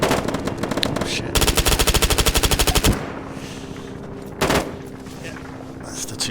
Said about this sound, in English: they're shooting at our paratroopers